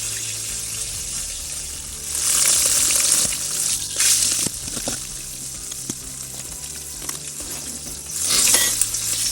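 A tomahawk steak sears in a pan with a steady close sizzle, flaring into louder crackling bursts at a few points, with no talking.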